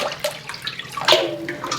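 Water is poured into a thick slurry of recycled wrapping paper pulp, giving close splashy gurgles and trickles in uneven bursts with a brighter splash near the middle.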